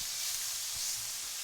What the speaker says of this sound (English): we're browning our meat